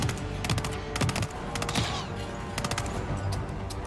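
Rapid bursts of gunfire in Hitman 3 on a train level, sharp cracking volleys in repeated clusters, fairly quiet and without talk.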